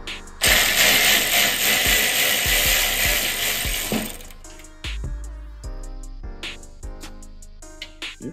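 A ratchet works loose the bolts holding an intercooler, first a loud sustained whirring burst from a powered ratchet, then a string of sharp separate clicks and clacks of metal tools, close by.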